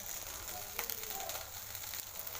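Idli roasting in ghee in a pan, a faint, soft sizzle with light crackles, close but quiet, under a low background.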